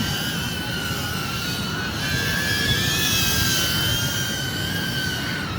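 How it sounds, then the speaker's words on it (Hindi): A flying drone gives off a steady, high whine with faint shifting tones over a constant rushing hum. It sounds fairly close and loud throughout, with no talk. "ये देखो ये ड्रोन उड़ रहा है"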